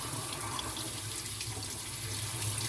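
Morel mushrooms rinsed under a kitchen sink sprayer with warm water, a steady close hiss and patter of spraying water filling the whole stretch without pause.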